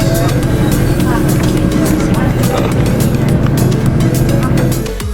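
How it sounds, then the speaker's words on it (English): Heard from a front seat, a bus crosses the island to Moalboal with a loud, steady engine drone and continuous road rattle and clatter throughout. "I'm taking a bus all the way to Moalbol on the other side of the island"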